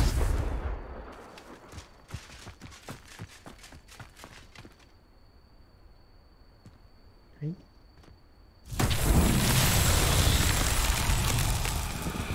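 Confringo blasting spells in Hogwarts Legacy: a string of sharp, crackling spell impacts, then a sudden loud explosive burst that roars on near the end, with a brief quieter gap in between.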